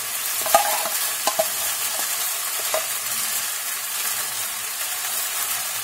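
Minced beef is emptied into a hot pan and fries with a steady, bright sizzle, punctuated by a few soft knocks and stirring clatters early on. The hiss then settles into an even crackle with no talking.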